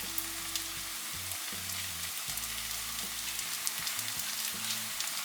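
Green chillies and onion fry in a pan for a mutton dry dish, giving a steady, close sizzle with light stirring scrapes, alongside a soft low tonal background.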